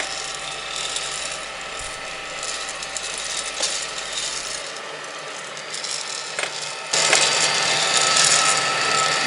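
A Gene Cafe home coffee roaster turns its drum while roasting beans near the dry-end stage, giving a steady mechanical ratcheting rattle that grows louder and brighter near the end, with no voices.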